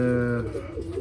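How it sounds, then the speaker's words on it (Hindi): Pigeons in a breeding loft giving low, throaty coos that repeat through the second, close and moderately loud against a faint busy background of the loft. "कबूतर माशाल्लाह एक्टिव भी हैं, दाना शाना भी खा रहे हैं।"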